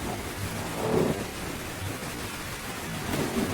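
Heavy rain pours steadily in a thunderstorm, a dense wash of noise with low rumbles of thunder swelling around the first second and again near the end.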